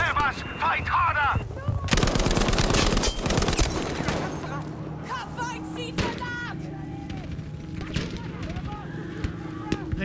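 Rapid bursts of Lewis gun machine-gun fire ring out during a battle at the Al Marj encampment in a video game, loud and dense at first, then sparser shots and impacts continue with shouted voices in the background.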